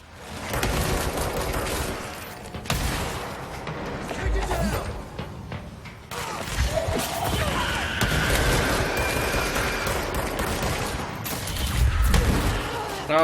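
Bursts of rapid gunfire and booms crackle through a dense, noisy soundscape in the video game Control, continuous and loud, with a voice talking over it.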